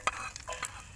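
Garlic sizzling in hot oil in a pan, a soft crackling fry with a few brief stirring scrapes, close and moderately quiet.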